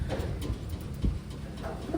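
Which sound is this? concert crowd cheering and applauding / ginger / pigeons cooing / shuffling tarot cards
pigeons cooing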